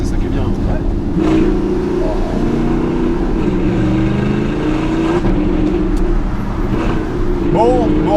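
Audi R8 with a naturally aspirated V8 engine droning loudly inside the cabin, a steady rising and falling rev tone that holds throughout, with people talking over it.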